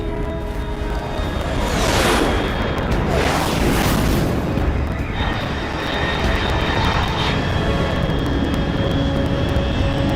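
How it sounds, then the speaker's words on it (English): An unidentified fast aircraft roars overhead in Metal Gear Solid Delta, its loud engine swelling twice as it passes, then a steady rumble continuing without speech. "Control, unidentified aircraft detected."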